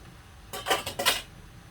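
A metal lid settles onto a cooking pot of sautéed vegetables with a short rattling clatter, two quick clinking bursts close up in a quiet kitchen.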